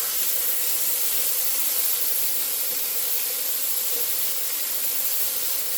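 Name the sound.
garlic sizzling in a hot cast iron skillet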